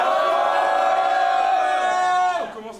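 A large crowd at a live rap battle event roars and shouts together in a sustained, loud wave of cheering that fades near the end.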